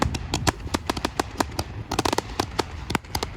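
A minigun-style firework shoots off outdoors, rattling out a fast, uneven string of loud crackling pops that continues without letup, heard close.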